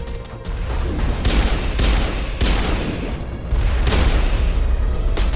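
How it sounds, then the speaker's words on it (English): A grenade goes off during a Mass Effect Legendary Edition firefight, loud booming blasts mixed with rapid bursts of gunfire and impacts. "I did not mean to throw a grenade there."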